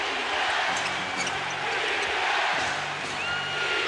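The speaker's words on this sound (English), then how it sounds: "This crowd on its feet." Arena crowd on its feet during the 1989 NBA Finals, Game 3 between the Los Angeles Lakers and the Detroit Pistons, a loud, sustained roar of cheering with scattered shouts and faint voices underneath.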